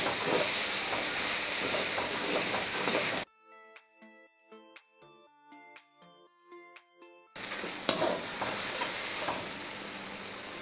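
Sliced tomatoes for a Kumbakonam banana fish curry frying in a pan, stirred with a broad hiss and sizzle that cuts out into a stretch of melodic chimes before the frying sizzle returns, louder and close.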